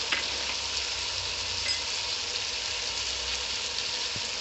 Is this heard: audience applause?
no